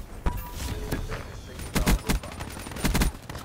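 Gunfire in a video game battle, a few short loud bursts of shots and impacts over busy game noise, close and punchy.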